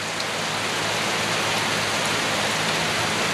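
Steady, dense rain falls in a warm tropical setting on the road around Koh Chang, Thailand, a continuous even hiss with no pauses and no voices.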